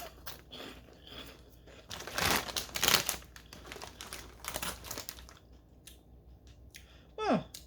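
Crinkling packaging and crunchy chewing of a Trader Joe's snack, with bursts of rustling around the middle and a brief higher squeak near the end, moderately close and fairly quiet.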